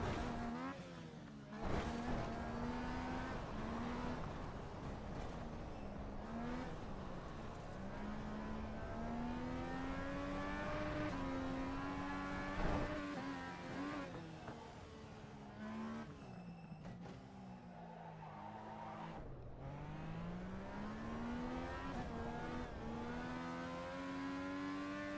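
Race car engines in the iRacing sim rev and drone continuously, pitch sweeping up and down through gear changes with occasional tire squeal, loud and steady throughout.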